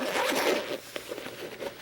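A chest bag's zipper is pulled open close up in one quick rasping run with a few short ticks after, alone and fairly quiet.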